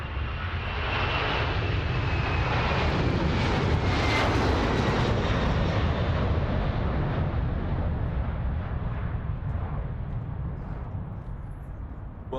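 China Airlines Cargo aircraft at Ted Stevens Anchorage International Airport in Alaska, a loud sustained engine roar filling the whole stretch, steady and broadband with a faint rising whine, close by and alone.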